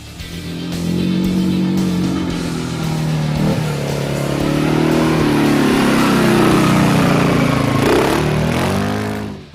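A CFMOTO CFORCE 520S quad's 500 cc engine runs steadily at close range, its pitch rising and falling as it revs and idles, loud and uninterrupted.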